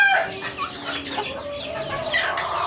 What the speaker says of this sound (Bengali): এগুলো বড় বড় টাইগার মুরগ।